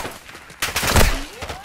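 A burst of rapid gunfire erupts in Call of Duty Warzone 2.0, loud crackling shots clustered around the middle, preceded by quieter distant pops and followed by a fading whine.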